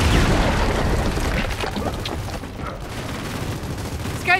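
Frag grenade blasts and dense gunfire in Gears of War 4 combat, a loud continuous barrage of booms and shots with no letup, ending in a brief bright metallic flourish.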